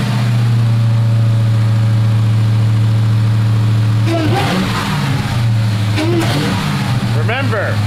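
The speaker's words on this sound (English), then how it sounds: "Remember, always full throttle your cold engine." A Dodge Charger Hellcat Redeye engine, converted from a V6 rental, fires up for its first start, idles with a steady loud drone, then blips and revs, while people talk over it.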